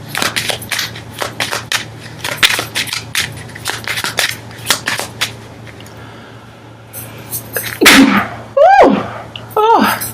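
A person sneezes loudly during a tarot card reading, a sharp close burst near the end following several seconds of card shuffling and rustling, with a few voiced exclamations around it.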